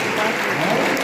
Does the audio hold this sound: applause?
yes